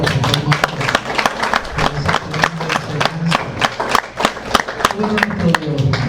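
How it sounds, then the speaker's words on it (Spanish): A church congregation applauds during a Spanish-language service, steady dense clapping throughout with music and voices running underneath. "Un aplauso al Señor."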